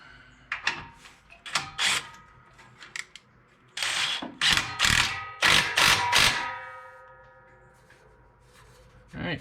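A socket wrench with a 13 mm socket tightens an exhaust clamp on a Jeep Gladiator during a Borla cat-back exhaust install. Close, loud bursts of ratcheting clicks come in several short runs with pauses between them.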